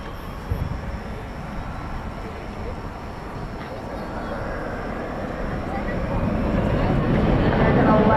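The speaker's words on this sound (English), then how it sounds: "So there's the big stretch Dreamliner." Boeing 787 Dreamliner airliner at DFW Airport at night, a broad steady engine roar that swells louder toward the end, with people talking over it.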